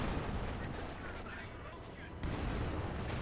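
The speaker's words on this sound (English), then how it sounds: "Got some sort of artillery being brought in" Incoming artillery fire in the Company of Heroes 2 video game: a steady rumble of shelling and booms, with a heavier impact near the end, under a busy battle mix.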